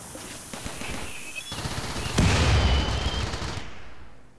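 Explosions go off in the colony-building video game Rimworld, a dense rattling crackle of blasts with a sharper burst midway, moderately quiet and fading out toward the end.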